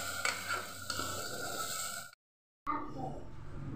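Coconut, onion and roasted peanut paste are sautéed in a pan, giving a soft sizzle with utensil scraping that stops for half a second and then resumes, fairly quiet and with no talking.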